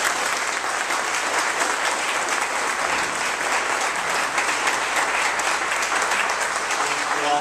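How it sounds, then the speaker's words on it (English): Loud, sustained applause fills a room at a candidate question-and-answer meeting as an audience claps for a departing judge, an even, dense wash of many hands that carries on steadily for several seconds. "Would you all please give a special round of applause to Judge Ortiz, who needs to leave now?"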